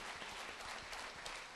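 Audience clapping for a singer and his team at the IAS academy in Mussoorie, a soft, even wash of many hands heard faintly from a distance, with no voices.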